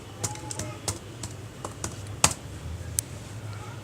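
Keys tapped on a computer keyboard while entering a Wi-Fi password, a few sparse clicks spread out at an irregular pace, with one sharper keystroke standing out, close and fairly quiet over a faint steady hum.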